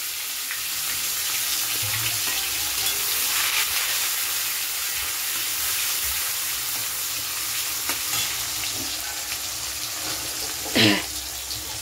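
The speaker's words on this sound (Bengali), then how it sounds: "ফোড়নটা দিয়ে দিলাম। আর পেঁয়াজ আর টমেটোটা দিয়ে দেবো।" Onion and tomato hit hot oil tempered with cumin, producing a steady loud sizzle and frying hiss throughout, with a brief stirring scrape near the end.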